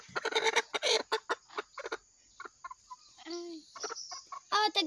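Chickens cluck in short, bright bursts close by, with a clear, quieter stretch in the middle. A steady high whine runs underneath throughout.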